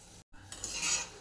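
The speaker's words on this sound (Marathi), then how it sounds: "आता हे गुलगुले ना एकसारख्या रंगावर येईपर्यंत आपण, तांबूस रंगावर येईपर्यंत हे एकसारख्या रंगावर आपण तळून घेऊया।" Gulgule, sweet dumplings, deep frying in hot oil, giving a steady bright sizzle with soft stirring scrapes and a brief gap near the start, close and without voices.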